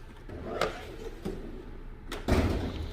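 The drawers of a small engine mechanic's toolbox slide and knock, with a few short clunks and rattles of metal. The last is the loudest, a drawer pulled open with a heavy thump.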